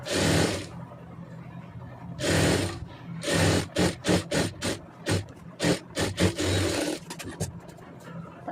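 A sewing machine stitches a blouse seam in bursts, first two long runs and then a fast series of short stop-start pulses, loud and close with no talking.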